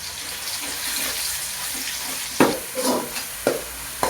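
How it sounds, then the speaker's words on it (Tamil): A spoonful of mustard seeds goes into hot sesame oil for banana flower pickle. A soft, steady frying hiss is broken by a few sharp, scattered pops and crackles close by, with no voices. "எண்ணெய் காஞ்சிருச்சு. கடுகு ஒரு ஸ்பூன் போட்டுக்கலாம்."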